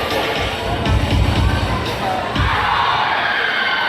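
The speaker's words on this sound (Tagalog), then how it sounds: "Malakas na sigawan" Loud crowd cheering and shouting at the Tambobong Indakan street-dance festival in Malabon, a dense roar of voices with a few sharp bangs and whoops rising out of it.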